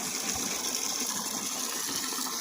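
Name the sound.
water gushing while filling the goats' water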